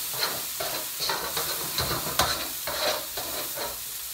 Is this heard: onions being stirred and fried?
yes